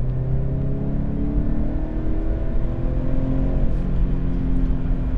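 A Toyota GT86 with a 200-horsepower naturally aspirated engine and a very short gearbox, accelerating: a loud, steady engine drone heard from inside the car, with no talking over it.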